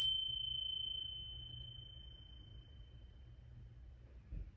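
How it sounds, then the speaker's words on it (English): A single small bell struck once, ringing out with a clear, bright tone that slowly decays over a few seconds in a quiet room, with faint low rumbling beneath. "The bell."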